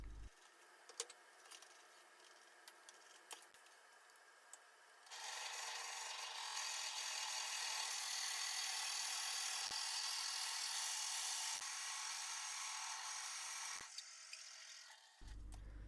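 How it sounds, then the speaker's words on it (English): A round carbide cutter hollows out waste pine on a spinning wood lathe, a loud continuous rasping scrape that starts after a few quiet seconds and runs steadily with brief dips, close up and without talk. "I'm using just a regular round carbide cutter to get rid of the majority of that waste pine"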